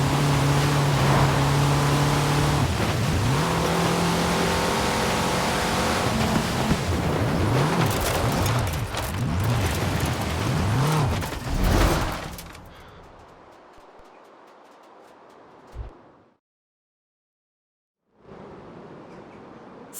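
Ford Escort engine in Forza Horizon 4, a loud, steady roar with rising and falling revs as gears shift, fading away and cutting to silence before a quiet hum returns.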